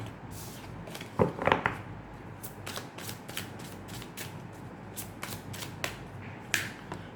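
Tarot cards are shuffled by hand during a card reading, with some cards flying out of the deck. A continuous riffle of quick papery flicks and snaps sounds close, with a louder flurry near the start.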